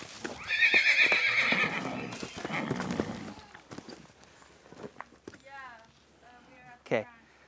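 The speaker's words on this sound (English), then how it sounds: "This is a very normal reaction for foals. They get pretty stressed and jump around a lot and things." A young foal in training whinnies loudly and shrilly, then its hooves clop and scuffle on the ground as it jumps around, with a person's voice briefly audible near the end.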